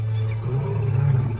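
Lions roaring in the wild, a deep low rumbling roar that swells and holds steady across the short stretch, close and loud with no talk over it.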